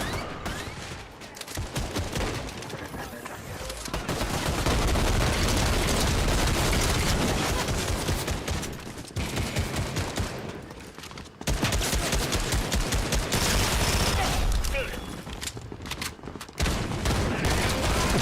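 Sustained enemy gunfire in a video game, with dense rapid bursts like automatic weapons firing almost continuously, loud and close, with a few brief pauses and no talk over it.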